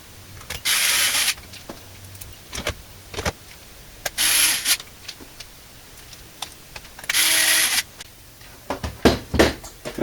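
Screws being fitted into an older HP Pavilion desktop computer case: three short whirring bursts, like a powered screwdriver, mixed with scraping, clicks and handling knocks, close up and with no talk.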